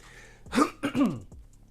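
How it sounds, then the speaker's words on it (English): A person coughs and clears their throat, two or three rough, close bursts in quick succession. "So sorry about the coughing."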